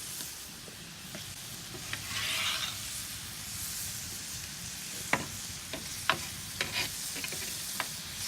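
Hibachi-style shrimp sizzle steadily on a Santa Maria griddle, a continuous hissing fry broken by occasional sharp ticks and pops from stirring, heard up close with no talking.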